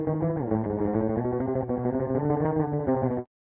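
Two DI electric guitars panned left and right, played dry without the death metal pedal engaged, a steady chugging riff for about three seconds that stops abruptly into silence.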